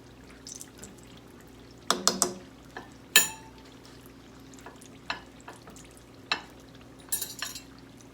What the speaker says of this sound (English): See, I'm frying them gently now.